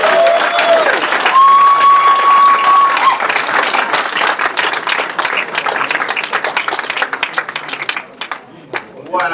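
Loud, dense applause from a crowd at a real estate auction fills the space, with a tone ringing briefly at the start and clapping thinning toward the end.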